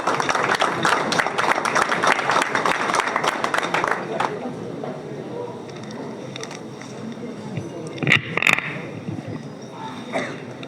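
A crowd at a public event greets the guest speaker, Chandrakant Dada Patil, with dense, loud clapping that builds and then tapers off after a few seconds, followed by a quieter murmuring hall with a few scattered claps.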